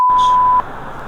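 A Samsung Galaxy A13 4G phone restarting gives a single clear, steady electronic beep lasting about half a second, loud and close, followed by quiet room noise.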